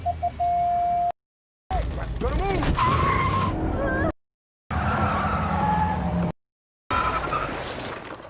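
Car engine and tyre skids from a film scene, with loud broadband bursts and squealing swoops between silent gaps, under a movie soundtrack.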